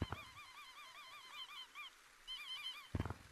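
A rubber duck cosmetic squeaks in a summer-update video game, a run of quick repeated honking squeaks, faint and fairly steady, pausing briefly before another burst.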